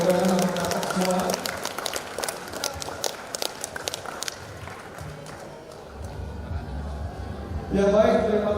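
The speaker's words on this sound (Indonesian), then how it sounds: "Mari kita sambut dengan tepuk tangan Bapak Ibu, para undangan anak-anak semua" Applause and crowd noise at a Christmas celebration and inauguration ceremony, busy clapping from the audience for several seconds that thins out, with a voice talking over it at the start and end.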